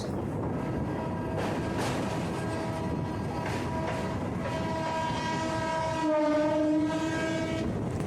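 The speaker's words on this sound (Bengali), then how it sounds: "আমাদের ওপাশের ব্রিজ দিয়ে চলে যাচ্ছে ট্রেন নাম্বার বারো হাজার আটশো চোদ্দো টাটানগর জংশন থেকে হাওড়া জংশন পর্যন্ত স্টিল এক্সপ্রেস" The Steel Express from Tatanagar to Howrah crosses a nearby bridge, a steady rumbling roar of the train with a rhythmic rattle, and a long horn blast in the last few seconds.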